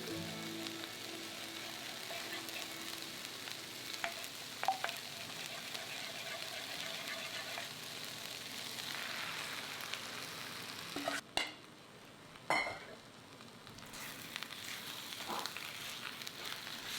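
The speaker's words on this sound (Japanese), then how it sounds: "混ぜるとこのようにすぐに固まってきます" Daikon mochi batter is stirred in a frying pan, a soft, continuous sizzle with scraping and tapping from the utensil, briefly dipping quiet midway before the frying resumes.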